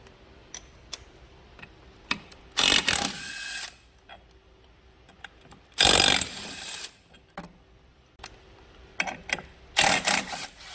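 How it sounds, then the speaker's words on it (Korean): A ratchet works loose a 10mm bolt and two hex bolts on a Quasar-engine scooter, with bursts of rapid clicking ratchet turns separated by quieter gaps holding sparse ticks and small metal taps. "여기 10mm 볼트하고 여기 보이시는 육각 볼트 2개를 풀어야 됩니다"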